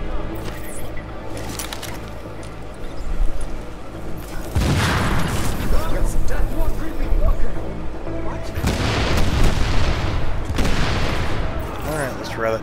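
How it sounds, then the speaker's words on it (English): Many shooters fire at once in a video game: dense, overlapping bursts of gunfire and booming impacts that come in loud waves, with a voice talking over parts of it. "there's lots of people shooting"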